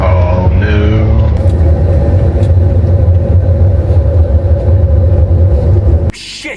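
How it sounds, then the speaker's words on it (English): A loud, harsh low grinding rumble from a vehicle's worn brakes persists for several seconds, then cuts off abruptly. "I don't know if you guys heard that, but that's my brakes."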